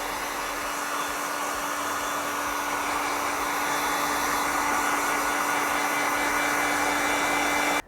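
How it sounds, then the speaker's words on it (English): Steady close whine and rushing airflow of a heat gun blowing hot air onto glued parts of a Cammus C5 direct drive wheel base, running continuously and loud with a constant tone throughout, no talking. "whatever glue they've used will soften up a bit with this heat gun"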